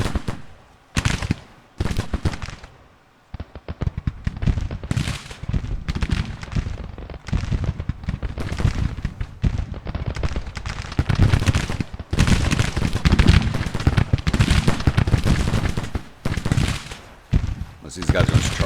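Massed Civil War rifle fire in a battle from the strategy game Grand Tactician: The Civil War, irregular volleys and scattered cracks rolling on and off, loud and near, with a voice talking over parts of it.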